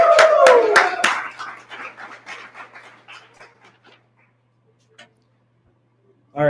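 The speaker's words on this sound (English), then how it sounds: "give them a huge round of applause" A short burst of applause at a storytelling fundraiser starts loud, thins into scattered claps and fades to near silence.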